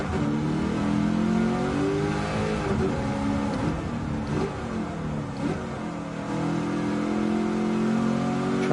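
A TCM Mustang race car in a racing video game revs and accelerates steadily, its engine note rising and falling with partial throttle, loud and continuous throughout with no talking.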